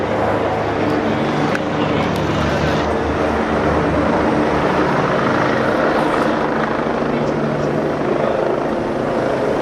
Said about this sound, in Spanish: Me parece que el helicóptero viene a buscar al presidente.